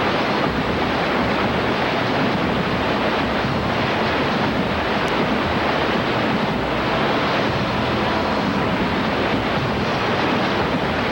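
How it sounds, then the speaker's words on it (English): River rapids rush in a constant, loud, broadband roar of churning water, dense and unbroken throughout with no voices. "But the rapids are relentless."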